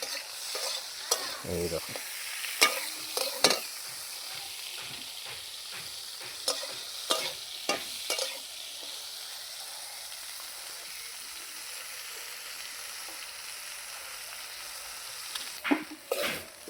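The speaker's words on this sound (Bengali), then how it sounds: "দেখো ফুলকপিগুলো ভেজে এবার তুলে নিচ্ছে।" Cauliflower frying in a pan on a rooftop makes a soft, constant sizzle with scattered clatters of a spatula against the pan, and a voice speaks briefly at the start.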